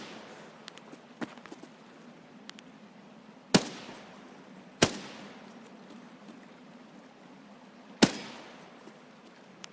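Three sharp, loud gunshots from Escape from Tarkov ring out at spaced intervals over a low steady ambient hum, each a sudden crack with a short decaying tail, preceded by a few fainter clicks and taps.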